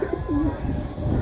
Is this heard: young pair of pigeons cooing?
yes